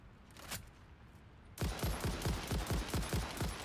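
Rapid automatic gunfire in the video game Satisfactory breaks out after a brief quiet lull, a steady string of close, punchy shots firing in quick even rhythm to the end.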